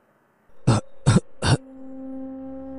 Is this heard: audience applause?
no